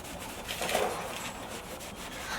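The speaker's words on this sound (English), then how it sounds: "we're gonna start buffing in circles" A microfiber cloth rubs in circles over a boat's gelcoat, buffing it by hand with a soft, steady swishing scrub, quiet and close, with no talking.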